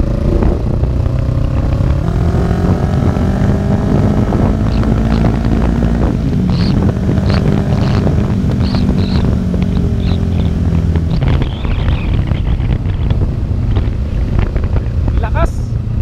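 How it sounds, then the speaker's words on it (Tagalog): A 650cc Kawasaki big bike being ridden, its engine droning steadily and rising and falling with throttle under heavy wind buffeting on the microphone, with a rider's voice heard over it. "Kawasaki 650. Ayan mga tropa, 650cc to."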